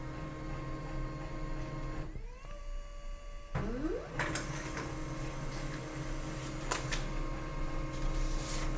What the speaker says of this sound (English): you should see the printer reacting and printing the document.